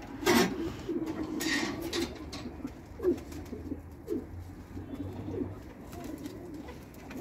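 Ankara Matbaacı tumbler pigeons coo softly and repeatedly at close range, with low rolling calls rising and falling over a faint background hum.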